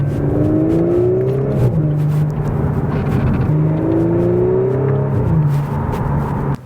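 An Audi S4 with an 8-speed torque converter automatic accelerates on the road, a loud steady engine drone rising in pitch through gears, with clear upshifts as the tone drops and climbs again.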